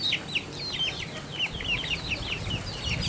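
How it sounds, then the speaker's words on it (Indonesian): Chickens in a forest village cluck repeatedly up close with short, choppy calls, over a low rumbling background that includes some footsteps or movement. "Aduh, tuh ayam pada ngikutin."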